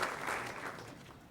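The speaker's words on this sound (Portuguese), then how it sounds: "Uma salva de palmas" Round of applause from the audience at a formal ceremony in São Paulo's city council chamber, a soft, diffuse wash of clapping that gradually fades over about a second and a half.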